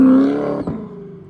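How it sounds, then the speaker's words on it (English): A modified supercharged C8 Corvette floored down a street, its loud exhaust blaring close by with a high supercharger whine riding on top, then the tone drops as the car pulls away and the note fades. "I'm just gonna floor it down the street so the people can hear what it sounds like"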